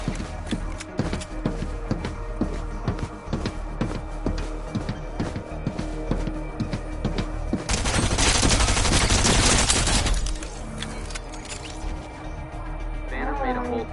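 Video game gunfire crackles in rapid repeated shots, swelling into a dense sustained burst of automatic fire midway before dropping back to scattered shots, with a voice talking underneath.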